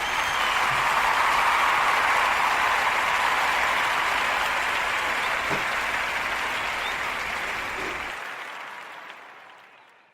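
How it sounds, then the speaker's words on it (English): A live morning-show audience gives sustained applause for a guest, a dense, loud and steady wash of clapping that fades out toward the end, with no talking over it. "So give him a round of applause again."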